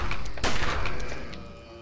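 A single sharp rifle shot from an M14 in Project Zomboid cracks loud and close, then rings out and fades over a second or so, with no voices.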